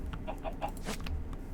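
Chickens in the video game Minecraft cluck in short, repeated bursts over a steady low background hum, fairly close and moderately loud.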